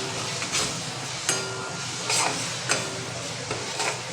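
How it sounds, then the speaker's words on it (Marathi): Turmeric, coriander and red chili powder sautéed in a pan over a low flame, with a steady soft sizzle and a few spatula scrapes and taps on the pan, close and without talk. "आता ह्याला आपण परतूया"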